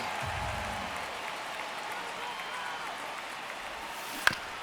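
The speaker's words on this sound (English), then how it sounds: "crowd getting settled here at Dodger Stadium" A crowd at Dodger Stadium in the baseball video game MLB The Show 26 gives off a steady, broad murmur like distant applause that lasts throughout, with a single sharp click near the end.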